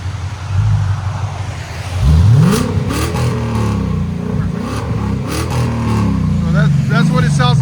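A 2021 Ford Mustang GT with the 5.0L V8 revs with its exhaust valves closed, giving a muted, steady engine drone that swells in rising pulls, loud and close, with people talking over it.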